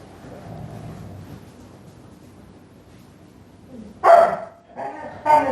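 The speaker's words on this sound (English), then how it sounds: "I've got a house full of dogs" Dogs in a house bark in a few sharp bursts near the end after a quiet stretch of low background noise, the barks loud and close.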